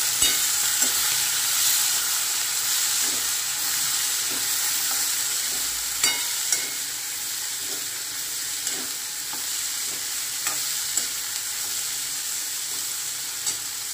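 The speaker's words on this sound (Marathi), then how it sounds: "तेलामध्ये शेंगा अशा मस्त परतलेल्या आहेत." Cowpea pods stir and sauté in hot oil, giving a steady soft sizzle with scattered scrapes and clinks of a spoon against the pan, no voices.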